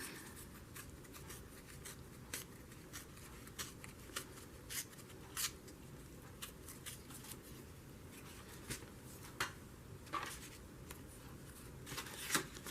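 Paper is torn by hand for a journal page, producing faint, intermittent rips and papery rustles in short irregular bursts against a quiet background.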